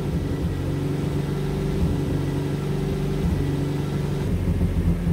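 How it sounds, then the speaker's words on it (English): A 1989 Toyota MR2 Mk1 engine idles with a misfire, a steady low rumble with uneven pulsing, heard close and alone. "If you listen every couple it misfires, listen."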